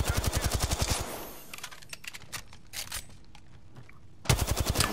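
Rapid automatic gunfire in a video game, with a burst of fast, loud shots at the start, scattered sharper single shots in the middle, and another loud automatic burst near the end.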